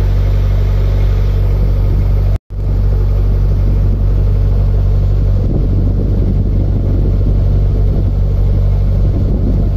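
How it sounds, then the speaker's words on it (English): A narrowboat's engine drones steadily as the boat cruises along a canal, a loud, constant low rumble with one brief dropout early on and no talking. "Beautiful engine."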